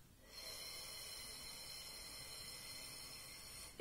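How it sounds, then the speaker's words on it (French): A child breathing out slowly during a belly-breathing exercise with a cushion, one long, soft, airy exhale that is quiet and close. "on inspire et on expire"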